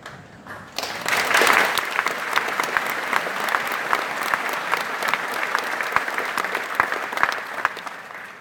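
Sustained crowd applause at an army basic training graduation ceremony, steady dense clapping that starts abruptly and continues throughout, fairly loud and distant-sounding, with no talk over it.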